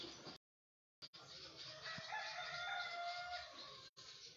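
A rooster crowing on a farm: one long, loud, drawn-out crow held steady for several seconds, close by, after a brief cut near the start.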